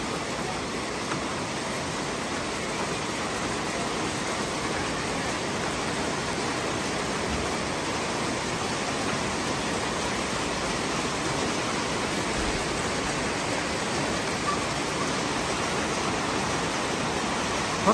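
Spring rain mixed with hail pours down in a dense, even roar of hiss and patter that holds steady and unbroken from start to finish, with no voices over it.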